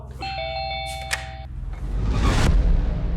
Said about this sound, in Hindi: घंटी चलाएगा क्या?